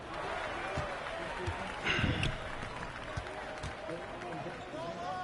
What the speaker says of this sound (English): Crowd loud as shit.